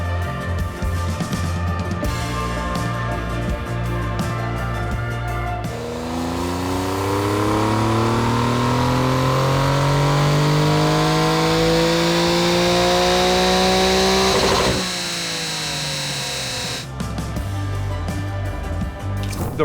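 Car engine running on a chassis dynamometer in dyno mode as a rival to a supercharged Porsche GT3, loud and steady, with a long rising-pitch pull through the middle before the revs drop and settle back to a lumpy idle.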